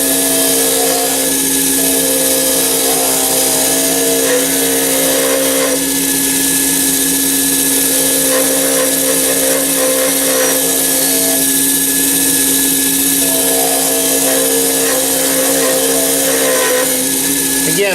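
A wood lathe spins steadily while a skew chisel turns a pen blank, giving a constant loud motor whine with a faint scraping of the cutting edge under it, no talking throughout.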